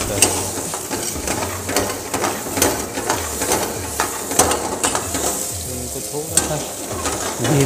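Something is being toasted in ghee and stirred in a pot for a vegetarian pressure-cooker biryani. The frying sizzles steadily and up close, with repeated scraping strokes of a spoon. Nobody speaks.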